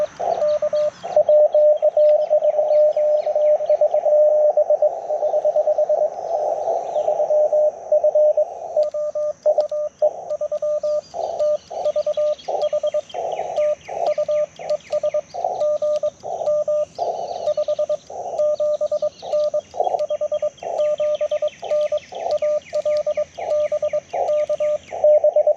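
Morse code on an amateur radio receiver, a single tone keyed in quick dots and dashes over faint static, with the signal's strength fluctuating as it fades, after a long steady carrier at the start.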